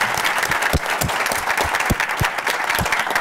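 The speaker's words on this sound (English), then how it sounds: "So let's close by clapping for our champions and clapping" A crowd applauds at a philanthropy gathering, sustained dense clapping with some sharper nearby claps standing out, no talking.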